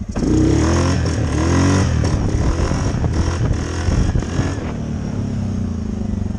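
A Suzuki King Quad ATV engine revs hard and loud outdoors in cold weather, the snarling pitch climbing and falling across repeated throttle blips with some mechanical clatter and no talking.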